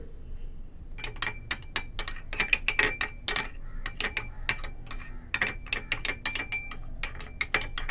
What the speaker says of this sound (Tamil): இப்போ இந்த மாதிரி ஒரு நல்ல பெரிய ஸ்பூன் எடுத்து இது நல்லா இந்த மாதிரி ப்ரெஸ் பண்ணிக்கணும்.